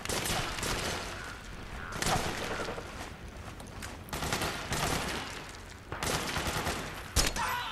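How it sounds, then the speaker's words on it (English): Gunfire in Metal Gear Solid 4 with distant snipers shooting: dense bursts of automatic fire come in several waves, loud and continuous, with a sharper shot near the end and no talking. "They're shooting at nothing."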